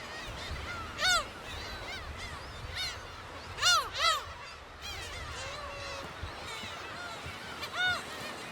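Gulls calling at their nesting colony on the rocky islets of Dokdo, a busy chorus of harsh yelping cries and mewing calls, several loud close bursts standing out over more distant birds.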